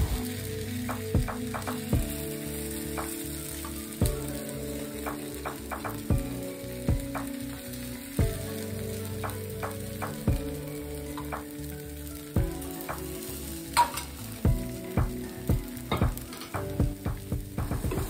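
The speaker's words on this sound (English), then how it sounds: "Add more oil and cook the rest of the patties." Okara veggie patties fry in oil in a pan with a steady, crackling sizzle, punctuated by regular clinks and scrapes of a utensil against the pan, close and clear with no talking.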